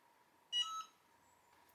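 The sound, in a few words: Cricut Hat Press beeping when it reaches temperature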